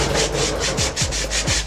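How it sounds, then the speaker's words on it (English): 220 grit sandpaper rubs a brake line on a 1996 Dodge Caravan in steady, close back-and-forth strokes, a rhythmic scratchy hiss with no talk. "We're using 220 grit sandpaper"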